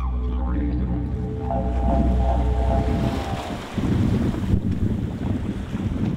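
Steady wind roars across the microphone aboard a sailing boat with makeshift sails at sea, with water rushing and sloshing beneath and a low engine-like drone.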